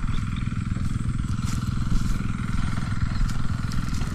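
Engine of an irrigation water pump running in a field, a loud continuous rough chugging drone with a fast rattling beat, steady throughout and close by.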